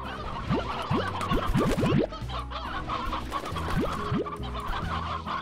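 Chickens cluck repeatedly in the video game Slime Rancher, a busy cluster of short, bright clucks under steady background game music and ambience, with no talking.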